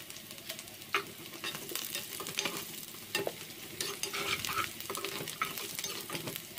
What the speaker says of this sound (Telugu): ఆయిల్లో కొత్తిమీర కూడా వేసుకొని కలుపుకోవాలి